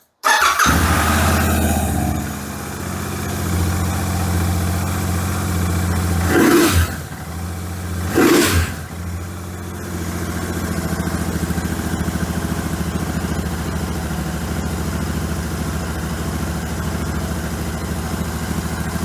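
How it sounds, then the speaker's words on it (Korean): A Royal Enfield Continental GT650 motorcycle engine with twin mufflers cranks and catches on the first try, with two sharp revs, then settles into a steady, throbbing idle close to the microphone. "시동을 켜서 배기음과 시동성을 들어보도록 하겠습니다"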